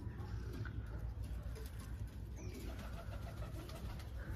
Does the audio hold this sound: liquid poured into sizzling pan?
no